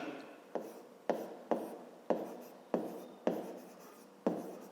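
Handwritten strokes in a fifth-grade maths lesson scratch across the surface in about eight evenly spaced, crisp bursts, close and fairly quiet, with no voices.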